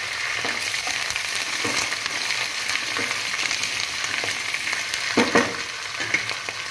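Garlic and curry leaves sauté in hot oil in a pan, a constant close sizzle and crackle with a few louder stirring scrapes near the end, no voices.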